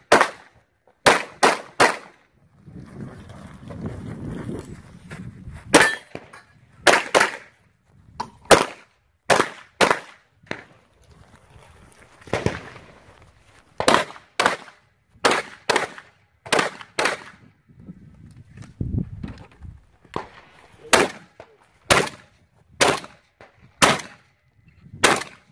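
Sharp, loud gunshots ring out at a multigun shooting competition stage, fired in quick bursts and single cracks with short pauses and faint movement between them, no talk.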